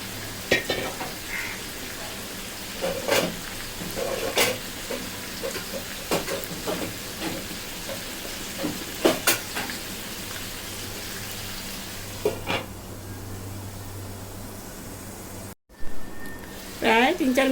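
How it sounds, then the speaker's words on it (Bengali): Chicken tehari masala stir-fried over medium heat in a pan gives a continuous sizzle with repeated spatula scrapes and clicks throughout, cutting out briefly near the end before the frying resumes. "এখন মিডিয়াম আছে আরও 2-3 মিনিট আমি এটা কষিয়ে নেব।"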